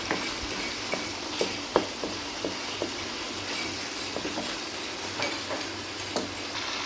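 Tomatoes are stirred into sizzling oil for a mutton karahi, with a steady frying hiss and regular sharp ladle scrapes and clinks against the wok.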